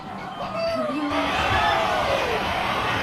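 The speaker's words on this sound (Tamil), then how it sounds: "கார் நிறுத்திட்டு வந்தவங்க எல்லாம் வீலுன்னு கத்துனாங்க." A crowd of people who had stopped their cars shout and yell together, loud and continuous, with raised voices swelling over a noisy outdoor background.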